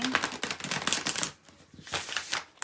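A Tarot of Dreams deck is shuffled clumsily by hand, making a dense, rapid riffling patter up close. It comes in two bursts separated by a brief pause.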